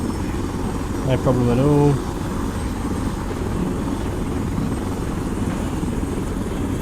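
Helicopter in Arma 3, a steady droning rotor and engine hum running throughout, with someone briefly speaking over it.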